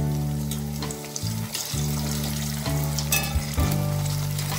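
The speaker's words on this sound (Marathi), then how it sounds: "आता हे तळून घ्यायचे आहेत" Leftover rice cutlets frying in hot oil give a steady, close sizzle with occasional stirring and spattering, and no voices.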